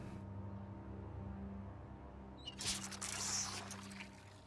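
Water pouring in the Project Zomboid video game, a bright splashing gush that starts about midway and runs for roughly a second and a half over a steady low background hum.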